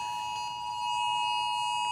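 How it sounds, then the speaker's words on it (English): A steady, piercing electronic emergency alert tone for a tsunami warning sounds continuously and loudly, a sustained high-pitched beep with no talk. "as sirens go off around the state right now"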